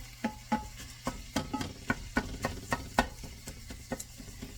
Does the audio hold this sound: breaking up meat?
yes